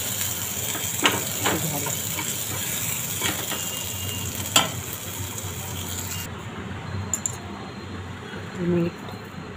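Pan sautéing for Malvani aamboli gives a steady hissing sizzle with occasional utensil taps, and a brief spoken word near the end.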